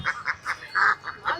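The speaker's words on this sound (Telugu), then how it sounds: "అలాగే బాతులు కూడా ఉన్నాయి" Ducks at a Sunday bazaar in Erragadda, Hyderabad, give six loud, nasal quacks in a rhythmic series, close by, with one longer drawn-out call near the middle and no voices on top.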